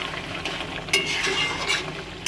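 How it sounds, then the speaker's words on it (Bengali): Chicken curry frying in a pot is stirred with a utensil, giving soft scraping and sizzling with a few sharp clinks against the pot, fairly close and without talk. "আবার একটুখানি ঢাকাটা তুলে নাড়া দিয়ে দেবো।"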